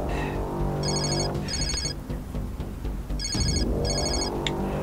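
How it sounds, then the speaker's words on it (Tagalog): A mobile phone ringtone rings over a busy background: two bursts of bright electronic trilling, a pause, then two more bursts, at moderate loudness. "Yung cellphone mo, kanina pa nagre-ring yan."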